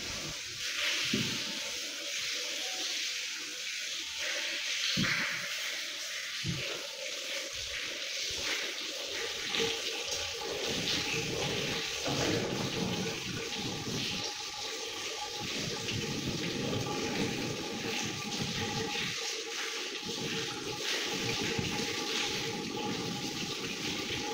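Water pours steadily over a body during ritual washing of the dead, a continuous near splashing gush without pause.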